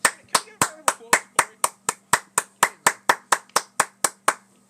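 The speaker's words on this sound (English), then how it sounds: "Can we get a round of applause, Corey?" A single person claps about seventeen times in a steady, even rhythm, the sharp claps close and distinct, closing out a podcast episode.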